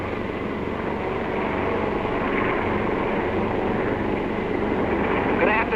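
A steady, droning roar of WWII bomber engines fills the space, a broad, continuous rumble that holds constant throughout, heard from inside the aircraft.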